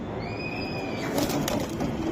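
Breeder pigeons coo in a low, continuous murmur, with a thin rising whistle early on and a few brighter chirps afterward.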